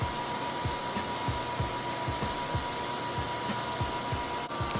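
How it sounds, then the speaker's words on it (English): An electric nail drill with a fine carbide bit whirs steadily while finish filing acrylic nails, a close continuous hum with faint rhythmic pulses as the bit meets the nail. "For finish filing, my first step is to go in with this fine carbide bit"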